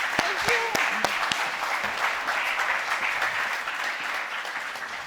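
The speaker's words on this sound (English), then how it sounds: "another round of applause for last year's winners." An audience at a political leadership award ceremony applauds last year's winners, a dense, loud wash of clapping that continues steadily with a voice briefly audible over it.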